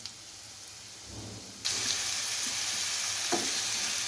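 Onions frying in a pan for a cheese roll omelette, a soft sizzle that jumps to a loud, steady crackle partway through, close up with a small knock near the end.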